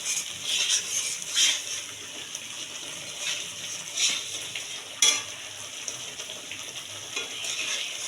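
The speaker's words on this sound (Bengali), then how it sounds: "এইগুলো নাড়তে থাকবো যতক্ষণ না বাদামি কালার আসছে, ততক্ষণ আমি এটাকে নাড়তে থাকবো।" Bottle gourd paste being stirred and fried dry in a pan, giving a steady close sizzle with repeated scraping strokes of the spatula, no voices.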